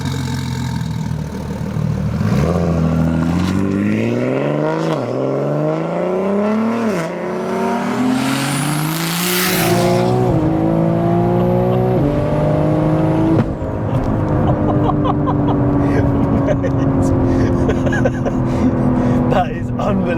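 A 1000+ BHP single-turbo BMW G80 M3 xDrive starts up and drives off, its engine revving hard through rising and falling gear pulls with a sharp high-pitched whine, loud and close, with people talking over it.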